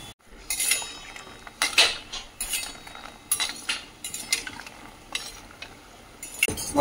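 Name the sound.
flour and yogurt candies frying in pan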